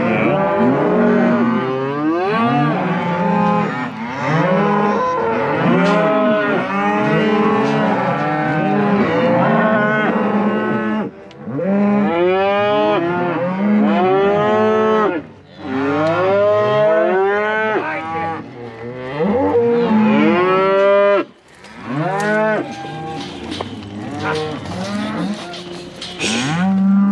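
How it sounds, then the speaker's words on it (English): A herd of cows and calves moo loudly and constantly while being sorted, many overlapping bellows close by with only brief lulls. "Sorting cows and calves off now."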